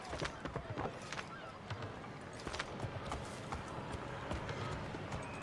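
Horse hooves clip-clop in Assassin's Creed 3, a quiet rhythmic patter of steps with honking fowl-like calls mixed in.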